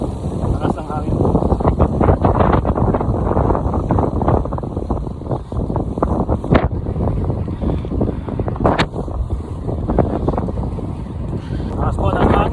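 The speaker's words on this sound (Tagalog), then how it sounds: "Lakas po ng hangin, oh." Strong wind roars and buffets the microphone continuously during a ride, loud and close, with gusty rumbling throughout and faint movement underneath.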